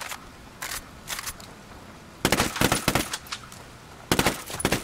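Assault rifle fire in Ghost Recon Wildlands, short crisp bursts spaced apart early, then a longer rapid string of sharp close shots and a final burst.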